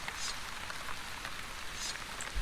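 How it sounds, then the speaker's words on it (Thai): Steady rain patters continuously in the video game The Wandering Village, a soft even wash of drops with a few brighter splashes and no talking. "ฝนตกอีกแล้ว"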